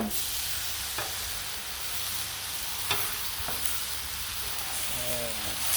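Chicken smash burgers sizzle on a Blackstone griddle with a dense, even frying hiss that runs the whole time, broken by a few light scrapes of a spatula.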